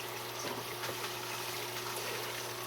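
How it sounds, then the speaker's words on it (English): A hang-on-back filter on a cold-water aquarium runs with a steady hum and a soft, constant trickle of water, quiet and continuous throughout. "If you're hearing any noise, it's from the hang-on back filter that I have for my cold water system"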